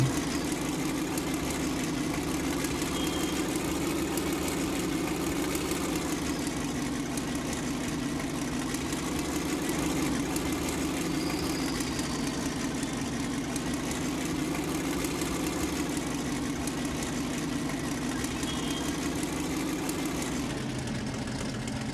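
A Panther Ausf. A tank engine idles in Tank Mechanic Simulator, a continuous low, heavy rumble that holds steady and loud throughout, then drops slightly in the final second.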